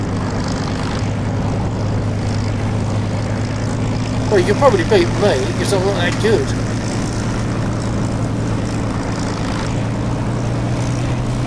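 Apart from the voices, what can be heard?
propeller aircraft engine in DCS flight simulator video game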